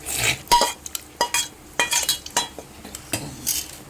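Coconut-milk gravy with bottle gourd, prawns and mushrooms stirred in a pot, a spoon scraping and clinking against the metal in quick uneven strokes with soft liquid sloshing, close and alone.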